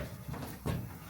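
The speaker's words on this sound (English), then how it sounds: "So we'll close the door." A wooden cedar shed double door closes with two soft muffled thuds close by, the second heavier than the first, over quiet room noise.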